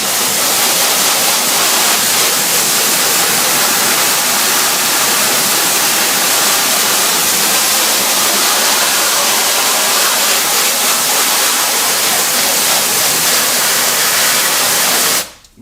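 A pressure washer sprays steadily against a screen printing screen during washout, a loud, unbroken broadband hiss of water jet that holds constant for about fifteen seconds before cutting off abruptly at the end.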